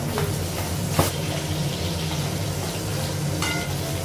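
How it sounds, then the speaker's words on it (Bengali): Fish sizzles in hot oil in a pan, a steady crackling fry with occasional sharper pops and a soft clink of a utensil, close and continuous. "মাছটা ভাজা হয়ে গেছে"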